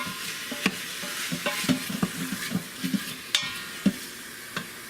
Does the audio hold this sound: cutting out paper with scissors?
no